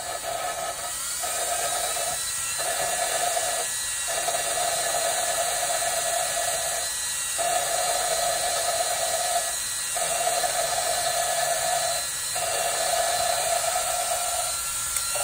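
Engine valve being lapped into its seat with lapping compound: a steady, close, whining tool tone runs throughout and breaks off in brief, fairly regular pauses every second or two, over a constant hiss.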